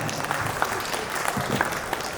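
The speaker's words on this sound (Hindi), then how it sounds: "एक बार फिर से जोरदार तालियां चाहेंगे" An audience applauds after a speech at a Hindi business talk, a short burst of steady clapping at moderate loudness with a faint voice mixed in.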